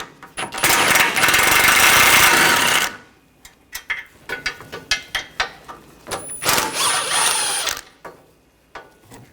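13mm socket wrench removing the bumper bracket bolts on a 2013-2022 Buick Encore 1.4L, with two long loud runs of ratchet whirring and a series of sharp clicks and clunks between them, no talking.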